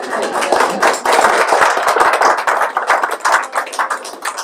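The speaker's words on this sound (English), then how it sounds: "a big round of applause for Josie" Audience at an art gallery private view gives a warm round of applause, many hands clapping steadily and close, with a few voices mixed in, fading slightly toward the end.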